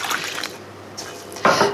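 Cold water poured into a pot of vegetables in a kitchen, short bursts of splashing and gurgling with a brief pause and then a louder final gush, no voices.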